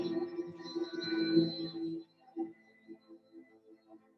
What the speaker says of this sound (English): what you're hearing there are measurements from the Parker Solar Probe of how it's measuring the intensity of the solar wind over time